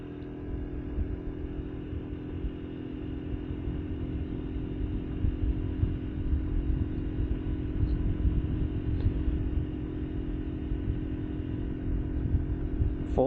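A Honda Navi motorcycle engine labors at full throttle up a steep hill, a steady, close, buzzing drone with constant rattle and no break throughout.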